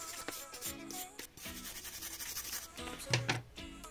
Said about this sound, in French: on est au max de ce qu'on pouvait faire avec cette petite brosse